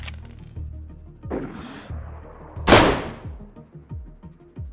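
DayZ gunfire: scattered distant shots with echoing tails, then a louder crack and a big sharp report mid-clip, followed by quieter repeated pops, no voices.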